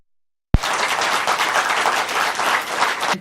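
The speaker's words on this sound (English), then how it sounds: "Can we please give James a hand for making this?" An audience breaks into sudden applause after a moment of silence, a dense, steady clapping from a room full of people that holds at a constant level to the end.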